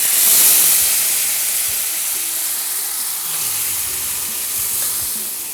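Liquid poured into a hot pan for Tamil mutton tripe kootu, with neem leaves already added, gives a steady steaming hiss and sizzle that swells at first and then settles into a continuous close bubbling rush.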